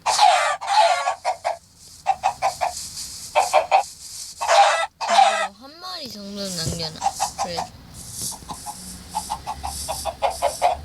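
Chickens clucking and squawking in agitated bursts, loud and close, with a rooster-like drawn-out call partway through and a person talking in between.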